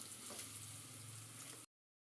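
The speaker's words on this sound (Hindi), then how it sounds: "प्याज डाल चुके हैं और ऑयल डाल चुके हैं और प्याज ब्राउन हो रहा है" Onions browning in hot frying oil sizzle with a steady, soft, crackling hiss, continuing evenly for under two seconds before cutting off abruptly.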